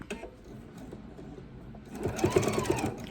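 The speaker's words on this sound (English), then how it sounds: "And then sew straight down till you get to your seam." A sewing machine stitches fabric for a bowl cozy, starting after a quiet stretch of low room noise and then running with a steady, close mechanical whirr and rapid needle clatter for about a second.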